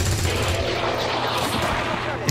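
Gunfire in XCOM 2, a dense burst of loud, close shots rattling over a low rumble, with a sharp final crack at the end.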